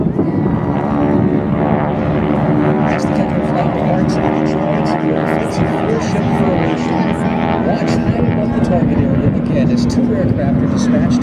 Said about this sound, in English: The Geico Flight will now roll in from a very high angle straight.